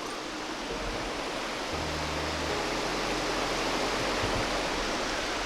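Steady, loud roar of rushing water from a waterfall on a river in a gorge, heard close up as a dense unbroken wash with no talking.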